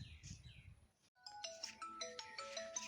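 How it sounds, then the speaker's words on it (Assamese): A mobile phone ringtone starts after a brief low rumble and plays a bright, repeating electronic melody, close and clear, with no talk over it. "ফোন মাৰিছে দেখোন এইটোৱে"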